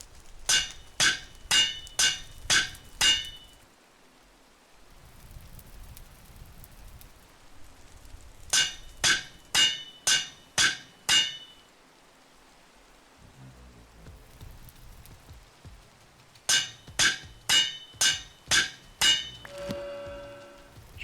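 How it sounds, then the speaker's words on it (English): Hammer striking glass in a Minecraft modpack game: sharp, bright clinks in quick bursts of about six evenly spaced hits, repeating in three clusters with quiet gaps between, heard alone without talk. "Should probably also change it so that all the sounds aren't the sound of hitting glass with a hammer."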